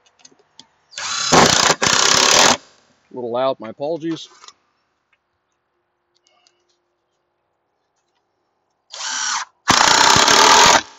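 A power drill drives recycled wood screws into a tabletop in short loud bursts, two at the start and two at the end, with a person talking briefly in the quiet middle.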